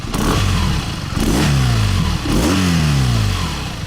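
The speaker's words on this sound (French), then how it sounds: "regarde le mouvement que fait la moto quand on met des petits coups de gaz" A BMW R nineT motorcycle, a 2021 Option 719 fitted with an Akrapovic sport exhaust with twin outlets, revs loudly and close up in a few short throttle blips, each rising then falling away, with no talk.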